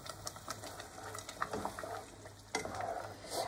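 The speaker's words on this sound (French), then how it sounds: "Je remue." Cheese fondue with wine being stirred in a pot, the melting cheese giving a soft continuous scraping and bubbling texture with a few sharper clinks, fairly faint and close, no voices.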